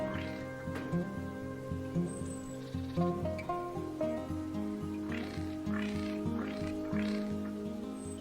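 A Eurasian jay at a winter bird feeder imitates a cat's meow, giving several short nasal mewing calls in an uneven series against a background of steady tonal hum.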